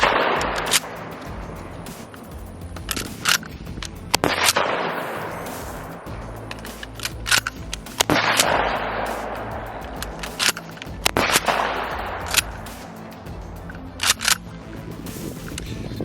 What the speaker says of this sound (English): What we're gonna do now is just shoot a bunch of different loads